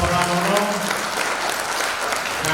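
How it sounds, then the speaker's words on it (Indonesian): An audience at a community outreach session on illegal excise goods bursts into lively, sustained applause, a dense even clatter of many hands filling the room. "Tepuk tangan yang meriah untuk Pak Joko Pramono"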